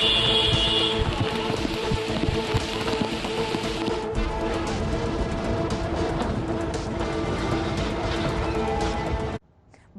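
Heavy monsoon rain pours steadily in Uttarakhand, a dense, loud roar of falling water that continues unbroken before cutting off abruptly near the end.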